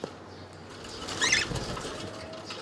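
Small lutino budgerigars scuffle with a larger bird, a brief flurry of flapping wings and scratchy patter rising in the middle of an otherwise quiet, close recording.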